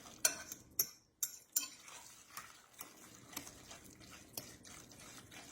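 Spoon stirring tuna salad in a bowl, several sharp clinks against the bowl at the start and then softer scraping and mixing, close by and with no voices.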